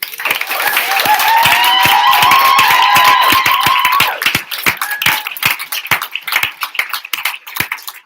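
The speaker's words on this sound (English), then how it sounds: "One more round of applause, please." Audience applause and cheering fill a performance venue, loud and dense for about four seconds, then thinning into scattered individual claps that trail off.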